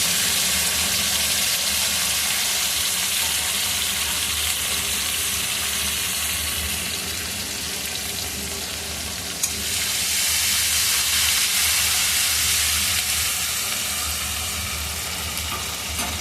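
Ginger garlic paste with tomato, cumin and coriander powder fries in a pan, a loud continuous sizzling hiss that dips slightly midway and then swells again, close and steady with no speech.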